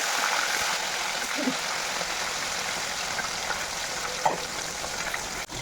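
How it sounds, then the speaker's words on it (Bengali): Fish pieces frying in a kadai give a continuous hissing sizzle, fairly loud and steady like rushing water, with a few faint clinks near the end. "কিছুটা এখন কড়াইয়ে ভাজা হচ্ছে"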